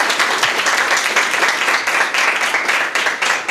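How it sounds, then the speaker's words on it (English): An audience at a storytelling event gives steady, dense applause of many hands clapping together, loud and sustained throughout with no pauses. "Give yourselves a round of applause for this."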